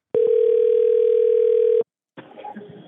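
A telephone dial tone sounds while a call is placed back after a dropped connection, a steady, loud, close tone of under two seconds. It cuts off, and faint background noise follows.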